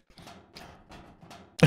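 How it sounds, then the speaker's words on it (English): Faint, soft repeated taps, about four evenly spaced light thuds, from a baby character landing after a fall in a video game mod, followed by a brief louder burst at the end; no talking. "That was the sound of your baby landing."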